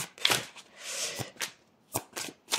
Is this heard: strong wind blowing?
no